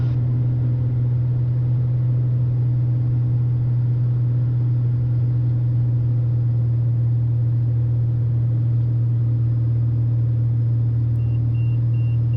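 A steady, low cabin drone from a Piper PA46 Malibu's engine on landing approach with power reduced, an even hum that holds unchanged throughout with no voices.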